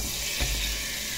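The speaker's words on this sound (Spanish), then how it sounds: "Voy a echar una agüita aquí" Water poured into a cooking pot in a home kitchen, a steady splashing rush running the whole moment with a brief louder swell partway, no voices.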